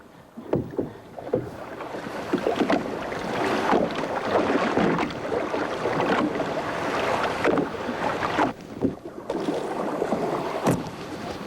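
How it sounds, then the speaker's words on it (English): A canoe is paddled through backcountry water in Algonquin Provincial Park, with repeated splashing paddle strokes and drips over a steady wind rush, close and fairly loud. "in this kind of paddling, most people just switch sides when they're tired"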